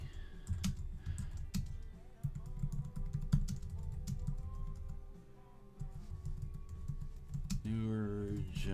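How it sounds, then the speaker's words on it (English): Typing on a computer keyboard while entering text in a web page editor, a steady run of soft key clicks under continuous talk, with a louder burst near the end. "You type your letter, you type what you have to say"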